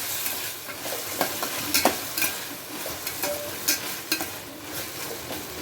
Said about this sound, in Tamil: பழம் வெங்காயம் தக்காளி நல்லா வதங்குது வதங்கட்டும்